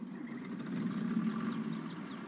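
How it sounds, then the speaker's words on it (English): John Deere diesel combine harvester with a short exhaust pipe idling in Farming Simulator 22, a steady low engine rumble with a mid-range hum and a few faint high chirps, moderately quiet, no voices. "Engine sounds good. It is a diesel."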